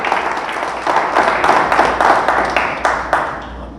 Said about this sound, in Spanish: Dale fuerte, fuerte, fuerte el aplauso a nuestro Dios